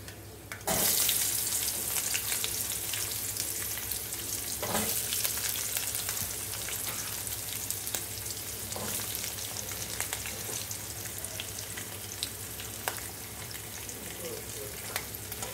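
Eggplant frying with curry leaves in a pan makes a steady, loud sizzle that sharpens as the leaves hit the oil, with occasional stirring scrapes and faint background voices.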